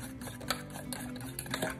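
A fork mixing chocolate protein waffle batter in an oversized bowl gives a steady, soft rhythmic scraping and ticking that runs throughout, close and fairly quiet, with no speech.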